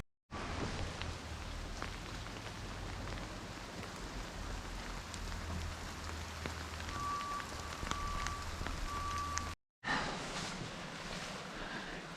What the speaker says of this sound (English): So we're here, piss pouring rain.